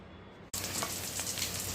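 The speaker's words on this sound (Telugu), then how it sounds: "మన పోపు దినుసులన్నీ చక్కగా వేగిపోయిన తర్వాత అన్ని తాలింపు దినుసులు వేసుకొని" Tempering spices fry in hot oil in a pan for a radish-greens and moong dal curry, starting as a sudden, steady crackling sizzle after a short quiet moment. The sizzle stays even and fairly soft, with occasional brighter pops.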